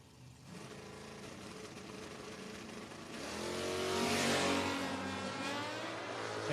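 At a no-box 660 drag race, a motorcycle and a car run side by side, a faint engine drone swelling into a louder, rising racing roar partway through, heard from a distance.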